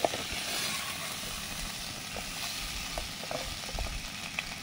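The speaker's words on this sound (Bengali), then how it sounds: "সবজিগুলো কিছু সময় ভাজার পরে এখন দিচ্ছি আদা বাটা" Vegetables sizzle in a pan of hot oil as ginger paste is added, a steady close-up crackling hiss with small pops and occasional stirring scrapes, and no talking.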